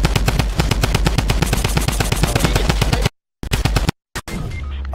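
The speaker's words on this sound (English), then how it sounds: "Bryce, you're getting sniped at too." Rapid automatic gunfire in the Fortnite battle royale game, a dense run of loud, evenly spaced shots for about three seconds, then a pause and a few scattered final bursts.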